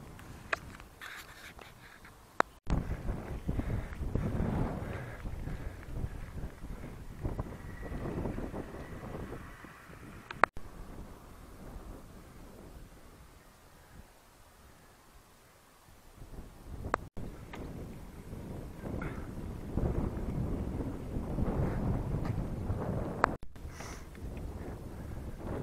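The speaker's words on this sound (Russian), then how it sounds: "Сильный ветер, холодный." Strong cold wind buffets the microphone while cycling along a river in Chuvashia, a low, gusty roar that rises and falls over about 25 seconds, easing into a calmer stretch midway before building again.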